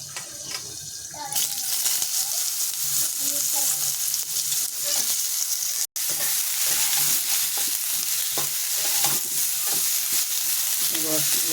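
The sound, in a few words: eggplant frying in a pan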